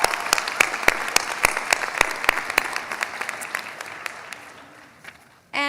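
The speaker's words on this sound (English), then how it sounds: "Let's applaud him even though he's not here." A hall full of people claps steadily at a graduate social work pinning and hooding ceremony, the applause thinning and fading out before a voice starts speaking at the very end.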